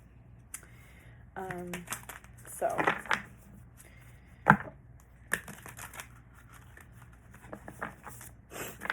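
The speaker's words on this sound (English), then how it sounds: "I'm just going to shuffle a couple times here" Tarot cards are shuffled in several short, crisp riffling bursts, close and moderately loud, with a voice speaking between them.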